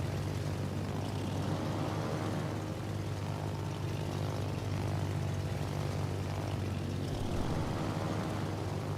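Carrier-launched planes in the World of Warships naval game fly with a steady, dense propeller-engine drone that holds at an even loudness throughout, with no voices.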